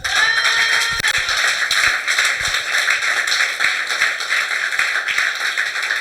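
A church congregation applauds together during a sermon: dense, sustained clapping that fills the whole stretch at steady loudness, with no voices standing out.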